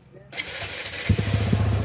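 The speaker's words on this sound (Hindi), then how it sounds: "तो ये देखो बाइक अभी बंद है और स्टार्ट करेंगे।" A TVS Apache RTR motorcycle engine starting: a brief whirr of the starter, then the engine catches and settles into a low, steady close-up idle rumble.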